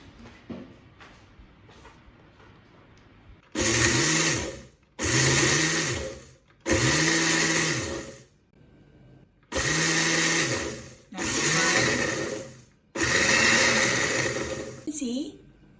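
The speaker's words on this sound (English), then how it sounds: "Okay, let's go to grind it." Dried chili is ground into flakes in an electric grinder, six loud whirring bursts a couple of seconds each, separated by short pauses, close to the microphone, with faint talk in the gaps.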